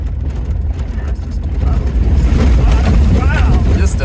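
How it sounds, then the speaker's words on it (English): A car pushing through a stretch of standing water on a dirt track, giving a steady rushing splash and engine rumble that swells louder toward the end, with wind buffeting the microphone. "we got some standing water here, so let's see if that car can make it through or not"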